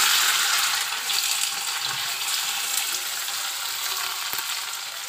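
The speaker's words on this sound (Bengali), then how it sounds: "গরম হয়ে গেছে, চলো পনিরগুলো আগে ভেজে নিই।" Paneer pieces frying in hot oil in a home kitchen give off a continuous bright, hissing sizzle that holds steady and close, with only faint knocks underneath.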